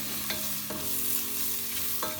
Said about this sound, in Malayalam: Chicken masala 2 spoon. എന്നിട്ട് നന്നായിട്ട് മിക്സ് ചെയ്യുക